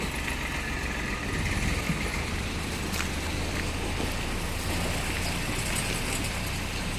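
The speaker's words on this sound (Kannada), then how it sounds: "ಟ್ರ್ಯಾಕ್ಟರ್ ಹೋಗ್ತಾ ಇದೆ" A tractor drives past on a road beside the Netravati river, its engine a steady rumbling drone that holds for several seconds amid outdoor wind noise, with no talking.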